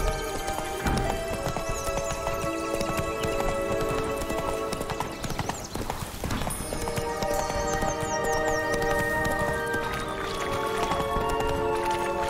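Roach, a horse in The Witcher 3: Blood and Wine, gallops with rapid rhythmic clip-clop hoofbeats close by, under a continuous game music score, with a few whinnies along the way and no speech.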